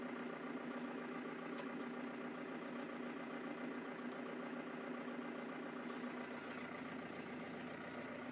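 A Massey Ferguson 5430 tractor engine idles steadily throughout, a continuous close rumble with a constant low drone and no voices.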